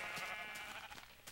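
A sheep bleats in a video game, a faint wavering cry followed by a short sharp click near the end, quiet and alone.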